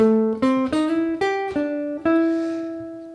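A clean-toned jazz guitar plays a short single-note line over a ii-V-I, several plucked notes stepping upward through the 11th, root and 9th, then sliding into the 9th an octave higher, the last note ringing out alone.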